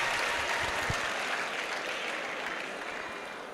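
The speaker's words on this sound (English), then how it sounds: "Please, a round of applause for her." An audience at a World Environment Day event breaks into sustained applause, a loud, even roar of clapping that tapers slightly toward the end.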